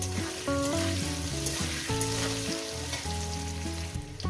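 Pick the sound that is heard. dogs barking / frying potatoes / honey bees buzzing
frying potatoes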